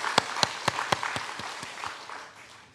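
Applause from a church congregation blessing the middle and high school students at an early-morning Good Friday service: a burst of scattered, distinct claps that thin out and fade over a couple of seconds.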